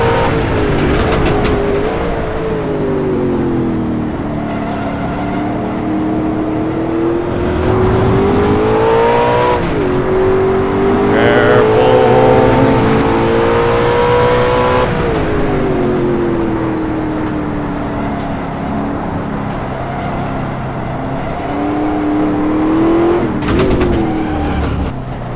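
A road-legal Ultima GTR sports car's engine revs and pulls under throttle, a loud, close, continuous roar rising and falling in pitch through several surges.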